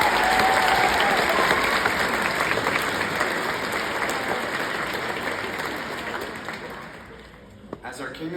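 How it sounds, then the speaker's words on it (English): Strong applause from a crowd at a high school graduation ceremony, dense and loud at first and slowly tapering off, with voices surfacing near the end. "let's give a huge round of applause to Churchill's Roundtable Advisors"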